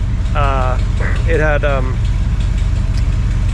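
A 454 big-block V8 idles in a square-body dually pickup with a steady, loud low rumble throughout while someone talks over it close by.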